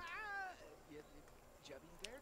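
A cat in the life-simulation game The Sims 4 gives a short, high, wavering meow, followed by softer chirping cat sounds and faint clicks, quiet and close.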